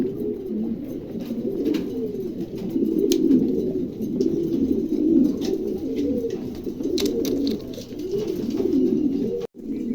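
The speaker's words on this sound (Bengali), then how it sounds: "চমৎকার একজোড়া কবুতর, দামটা আলোচনায় রাখা হয়েছে" A pair of pigeons offered for sale coo in a continuous low, throaty rolling rhythm close by, loud and steady with no talk, plus a brief soft thump near the end.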